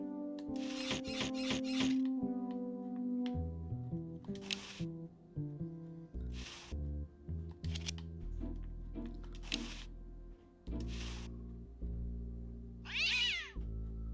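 Cartoon cat meowing in the point-and-click adventure game Day of the Tentacle Remastered, several short meows and a rising yowl over the game's busy, bouncy music score.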